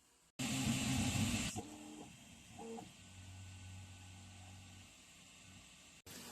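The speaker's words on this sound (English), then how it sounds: "So the printer's going to be working away for about an hour or so." A 3D printer starts a print: a loud hiss gives way to short, stepped motor whirs and then a low, steady hum. The sounds are close, with no talk.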